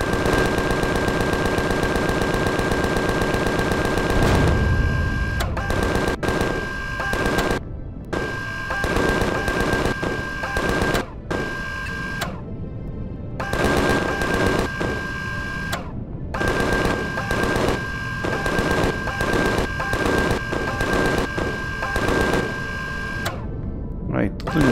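Sustained rapid bursts of gunfire in the video game Empyrion: Galactic Survival, loud and continuous with brief gaps, while a person talks over the shooting.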